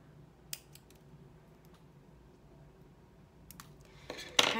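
Small scissors snip the corners off artificial nail tips, giving a few faint, crisp clicks spread out over a quiet background, with a louder snip right at the end.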